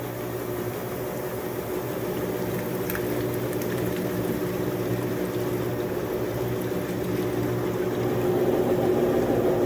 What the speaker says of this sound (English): Here we go, another spin. Water's coming out over here.